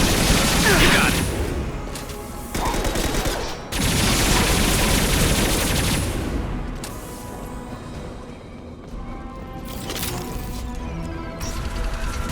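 Heavy gunfire from a high-impact shot in the video game Mass Effect 2, loud broadband blasts and crashing bursts in a dense, sustained volley with brief pauses, over faint talk.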